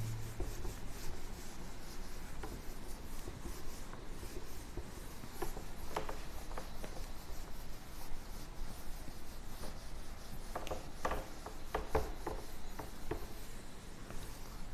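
In a physics class, writing is wiped off a board with soft, continuous rubbing and scraping strokes, faint and close, with a few sharper scuffs scattered throughout.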